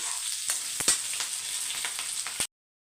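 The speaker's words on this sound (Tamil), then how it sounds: "வெங்காயம் வந்து பாதி வதங்கட்டும்" Sliced onions frying in oil for a chutney, a bright, steady close sizzle dotted with sharp crackles and pops, stopping abruptly after about two and a half seconds.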